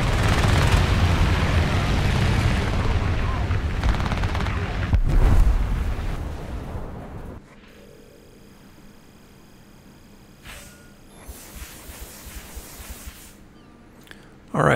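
Rapid .50 caliber machine-gun fire from an Ro.44 aircraft in the War Thunder air arcade game. It is dense, loud and booming for about seven seconds, then drops to quiet engine drone with a few faint pops.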